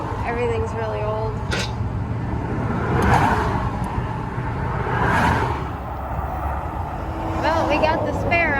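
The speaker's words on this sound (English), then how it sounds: "I don't know if any of you can hear me because, you know, there's a lot of traffic" Road traffic passes a roadside stop where a spare tyre is being fitted on a cross-country road trip in Tennessee. Vehicles swell and fade in several waves beneath continuous nearby talking.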